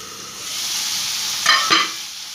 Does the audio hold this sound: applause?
no